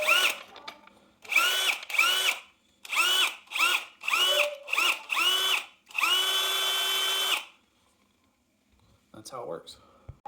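A power drill turning an 8-inch composite ice fishing auger whirs in a series of short bursts with brief pauses, ending in one longer sustained run, then a few soft clunks.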